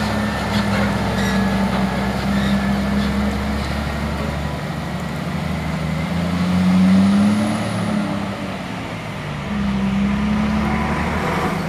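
Hino trailer trucks labour up a steep hill, their diesel engines droning heavily and swelling louder midway as one strains harder, with a continuous low rumble throughout.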